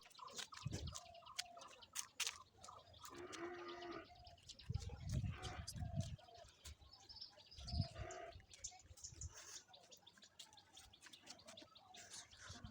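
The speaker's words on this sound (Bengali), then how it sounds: "পরিবেশের একটু শব্দটা জাস্ট শুনেন, পাখির ডাকের।" Birds call in a rooftop garden: faint, scattered chirps and tweets over quiet ambience, with occasional soft low thuds.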